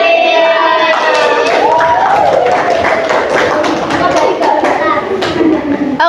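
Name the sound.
applause for students' presentation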